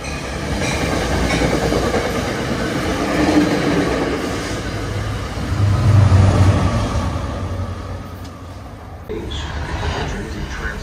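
NJ Transit commuter train at Secaucus station during evening rush hour, a continuous close rumble with clickety-clack of wheels over rail joints, swelling and easing as cars pass.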